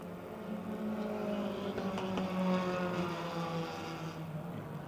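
Race cars run nearly bumper to bumper around the Motordrome Speedway oval, their engines a steady, droning roar at a distance that swells slightly and fades, with no voices over it.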